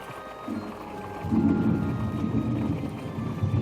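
Rumbling thunderstorm sound effect for a haunted mansion raining-window prop, a low roll swelling after a quiet start and sustained with a steady rain-like hiss.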